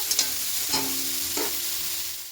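Cauliflower pieces fry in hot oil with a continuous close sizzle, while a spatula stirs them in a few brief scraping sweeps.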